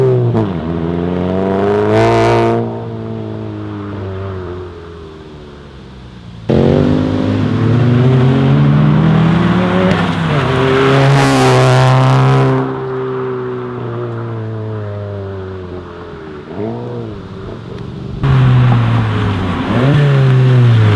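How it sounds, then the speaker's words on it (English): A 2017 Volkswagen MK7 GTI with a Corsa performance exhaust launches hard from a stop, engine revving loudly up through rising pulls with brief breaks between gears, close and dominant with no talk. "So I'm just going to do a little bit of aggressive acceleration from a stop here and then flying back"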